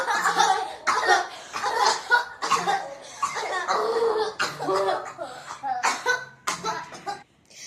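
A string of harsh, repeated coughs from a voice imitating how a congregation coughs during group prayer, coming in quick uneven bursts close to the mic, with some laugh-like sounds mixed in.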